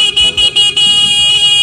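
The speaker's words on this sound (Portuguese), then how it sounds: "Ó, buzinou uma vez." A car horn honks loudly in a few short bursts, then holds a steady blare, with faint street noise underneath.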